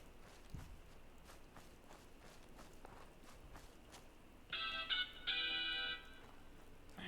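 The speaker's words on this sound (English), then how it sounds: "Man, my phone is just going off today." A mobile phone ringing during Fallout 4 play: soft footsteps give way to a bright electronic ringtone that plays in two short bursts of tonal chimes, fairly clear over quiet background.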